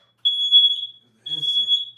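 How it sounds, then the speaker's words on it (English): A smoke detector set off by burning incense shrieks with two loud, piercing high-pitched beeps close by, separated by a short gap, with a faint voice underneath. "I got the incense burning, and I unplugged the smoke detector"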